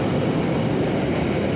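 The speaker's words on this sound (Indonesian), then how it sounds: "Kereta api Gajah Wong berangkat dari stasiun berangkat dari stasiun Lempuyangan tujuan ke Jakarta Pasar Senen." The Gajah Wong passenger train, made up of executive and modified economy carriages, rolls through Lempuyangan station in Yogyakarta, a loud continuous broadband roar of wheels and carriages close by, without speech.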